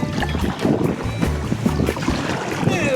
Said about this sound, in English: the wind's blowing me sideways